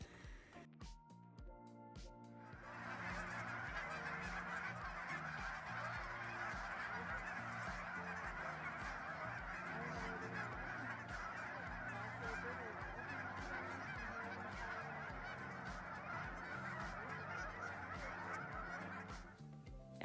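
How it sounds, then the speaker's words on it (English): A large flock of geese, including greater white-fronted geese, honks continuously and loudly at a Colorado park pond. The dense chorus swells in after a quiet start and holds steady almost to the end. "After a couple hundred more geese flew in"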